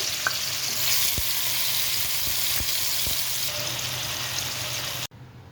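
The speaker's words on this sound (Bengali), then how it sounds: "আমি ভালোভাবে মাছটা একটু ভেজে নেব।" Tilapia fish pieces frying in oil give a dense, steady, loud sizzle with a few faint knocks, and the sound cuts off abruptly just before the end.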